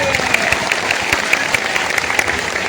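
A crowd at a political rally in Bihar claps with loud, sustained applause, many hands beating in a rough, steady rhythm with a few cheers or voices blended in.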